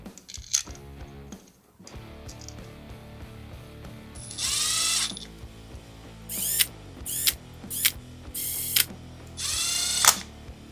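A ratchet wrench tightening engine cover bolts on a Kawasaki KFX450R engine, several bursts of rapid close clicking separated by short pauses, loud and with no talking.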